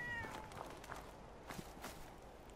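A cat meows in the game Fallout 4, a short harmonic call near the start followed by soft scattered footstep-like sounds, faint against low background noise.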